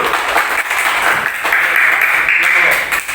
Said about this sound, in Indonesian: Tepuk tangan untuk kelompok 3 dulu.